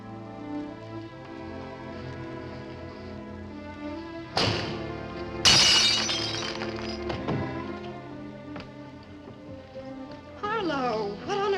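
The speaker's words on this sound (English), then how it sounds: "if you shatter a pane of glass in the dead of night, it makes a noise" A window pane of glass shatters at night in a 1955 film-noir: a sudden thump, then a loud crash of breaking glass with tinkling shards, heard over a sustained musical score.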